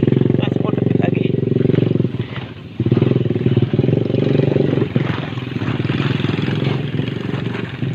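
A freshly serviced motorcycle engine runs steadily and loudly on a rural ride toward farmland, its low drone continuous with a brief dip midway, while people talk over it.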